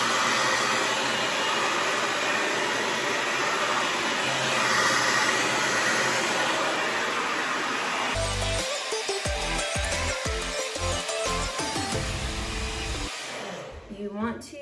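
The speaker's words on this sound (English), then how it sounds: "So hover diffusing is where you just hover the diffuser away from your hair until the cast starts to set." A hair dryer fitted with a diffuser, hovered away from curly hair, roars as a steady, loud broadband whoosh. Its airflow changes partway through and turns rougher and more uneven, with thumping bursts.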